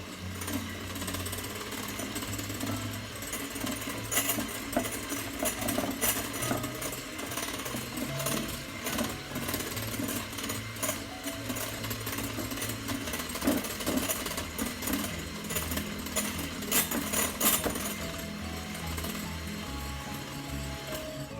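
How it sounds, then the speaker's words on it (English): A mixer beating egg whites toward stiff peaks for a cheese soufflé, a steady continuous mechanical whir with a rattling buzz that runs close and loud without pause throughout. "in the last 30 seconds or so of beating these egg whites, they're gonna go from soupy to stiff and peaked"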